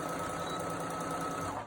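A sewing machine runs continuously while stitching a homemade fabric mask, a fast steady mechanical whir with a faint high whine, close and uninterrupted until it slows at the end.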